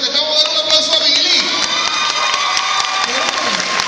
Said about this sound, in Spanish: Lo que estamos dando un aplauso a Billy